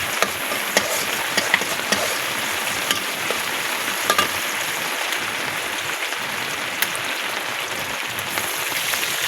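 Garlic fries in a pan with a loud, dense, continuous sizzle and scattered small crackles and pops. The cooking is near and runs on without talk.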